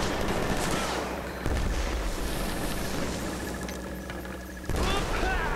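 Killzone 3 multiplayer firefight with a grenade explosion: dense gunfire and rumbling booms throughout, a sharp blast midway, a quieter lull, then another sudden loud burst near the end.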